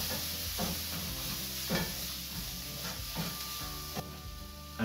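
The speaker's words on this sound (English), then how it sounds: "Just give that a stir into the oil, and in with the chilli." Lemon zest and chilli stirred into hot oil in a pan, a continuous close sizzle broken by a few soft scraping strokes; no one speaks.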